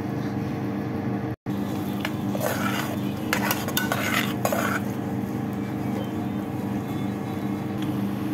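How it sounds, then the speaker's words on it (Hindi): Onions and celery sauté in a pan for dal soup, with a low sizzle under metallic clinks and scrapes of a spoon stirring, a brief cut in the middle, then steady frying. "अनियन, इसको अच्छे से सोके करेंगे हम।"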